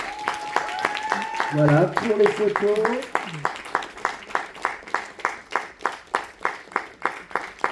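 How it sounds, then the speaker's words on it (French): Applause from an audience at a cosplay contest prize-giving. Brisk, fairly close clapping settles into an even rhythm and continues after a host's voice speaks over it briefly at the start. "Sous vos applaudissements."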